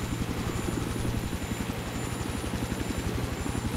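Helicopter flying in a multiplayer video game, its rotor producing a fast, steady thumping pulse over a continuous engine hum, loud and close with no talk.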